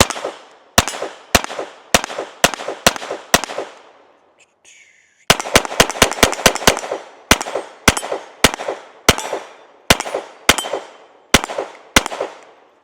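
Handgun shots ring out at an outdoor range with an Olight SE weapon light mounted. About twenty sharp, loud reports come in two strings, spaced at steady intervals, with a brief rapid cluster after a short pause.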